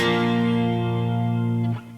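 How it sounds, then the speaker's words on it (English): A single sustained distorted electric guitar power chord rings out loud and buzzy, then cuts off abruptly near the end. "They're playing power chords with distortion"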